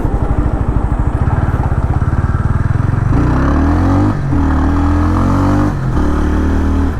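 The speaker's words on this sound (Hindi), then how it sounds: "जैसे मैं रॉनिन चला रहा हूँ" A TVS Ronin motorcycle engine drones steadily up close, rumbling through changing gears as the bike rides along a wet road, loud and continuous.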